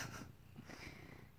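A cat purrs very softly and close by, a faint low rumble with breathy texture lasting just over a second, no talking.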